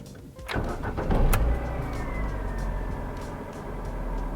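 A used Ford Puma car is switched on. After a short click and whir, a steady, moderately loud engine hum settles in and holds to the end.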